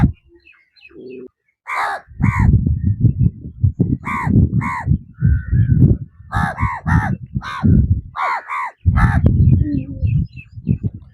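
Crows caw repeatedly near a person living alone on an isolated island, loud harsh calls coming in several bursts across the clip over steady low background noise.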